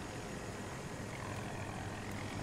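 A jet aircraft in Battlefield 2042 roars as a dense, continuous engine wash that fills the scene evenly and stays loud throughout.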